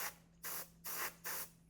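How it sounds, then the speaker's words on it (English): An airbrush sprays paint in four short, even hissing bursts with brief pauses between them, close and fairly quiet over a steady low hum, applying stencil markings on a Top Flite P-51D model plane. "Nice thing about using an airbrush is you don't necessarily have to mask everything off so much."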